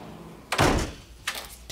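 A door slams shut with a loud, close thud, and a quieter knock follows a moment later as it is locked.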